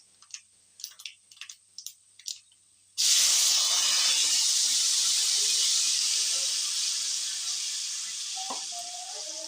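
A few quiet clinks and taps, then tamarind extract hits a hot pan with a sudden loud sizzle that slowly settles into a steady hiss.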